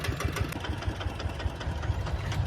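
A Thai-made walking tractor's small engine chugs steadily nearby with a rapid, knocking rhythm and a rattly mechanical vibration, running continuously without voices.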